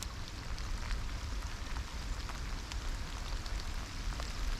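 Rain falls steadily on and around a small urban creek during a fly fishing outing, a soft, even patter with scattered drips, constant and close, with no voices.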